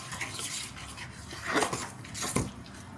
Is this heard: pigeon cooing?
no